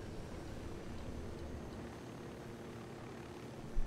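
A smoking, damaged helicopter in Ghost Recon Wildlands flies with a steady, dense rotor and engine drone that holds evenly throughout, with a brief louder burst at the very end.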